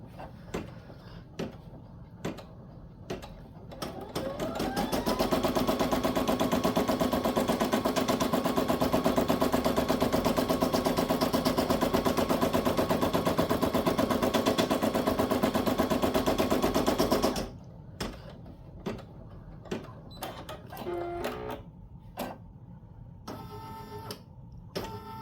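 An embroidery machine stitches a small circle on an in-the-hoop fabric coaster, a steady loud rapid mechanical hum with needle clatter lasting about twelve seconds, framed by quieter intermittent clicks and thumps before and after.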